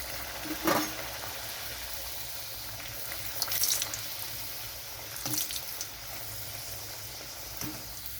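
Rolled spinach luchi fry in hot oil in a wok with a quiet, steady hiss, broken by a few brief crackling bursts as the dough bubbles.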